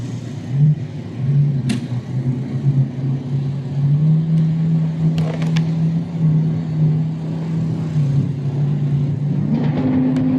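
A supercharged Budweiser drag racing car at an NMRA drag strip event, its engine droning steadily with pitch shifts as it idles and stages, heard from a moderate distance amid crowd and track ambience.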